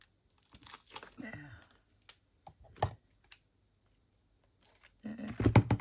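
Scissors snip paper ephemera in short, quiet, scattered bursts of cutting and crinkling, close by, with pauses between and a brief soft voice.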